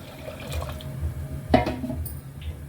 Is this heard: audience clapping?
no